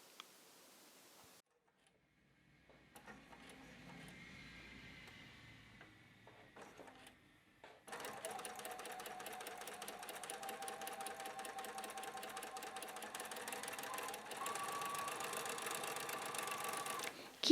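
A sewing machine stitches a welt pocket in short bursts at first, then runs in a long, steady, close-up whir with a faint ticking rhythm, backstitching at start and finish.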